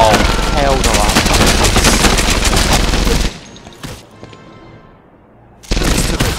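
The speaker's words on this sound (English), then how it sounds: "That's a big machine gun." Loud, dense machine gun fire in the Medal of Honor Airborne video game during a final airborne assault, a rapid sustained burst that drops out briefly to quieter background before another heavy burst resumes.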